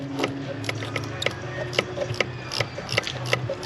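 Someone tightens fittings on an aftermarket Blaze intake installed in an Audi S3, producing a steady run of close ratchet clicks and small mechanical taps in an even, repeating rhythm, without talking.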